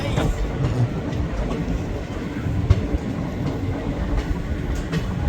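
A train rumbles at a station, with a shunting locomotive nearby and Patna Rajdhani coaches standing close, giving a steady loud rolling rumble with faint clicks.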